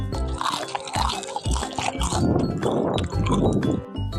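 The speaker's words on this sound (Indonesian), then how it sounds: "ini kulit bagian luar celornya terasa lebih renyah dan juga crispy ya" Crispy fried cilor, a starch snack dipped in chili sauce or tomato ketchup, is bitten and chewed close up, giving loud repeated crunches with wet squishy chewing between them and no talking.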